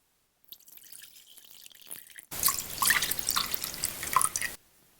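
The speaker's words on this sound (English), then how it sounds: "And let's put all the liquid inside." Milk, water and yeast are poured into 00 flour for bread dough, starting with a light trickle that becomes a fuller, splashy pour for about two seconds before stopping abruptly.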